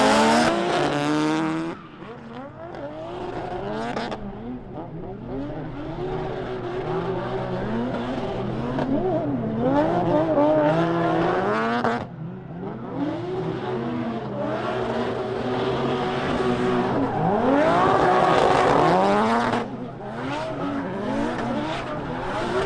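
A Nissan S13 drift car runs a full lap at a drift competition, its engine revving and rising and falling continuously with tire squeal and skidding through the corners, loud and close throughout with no talk.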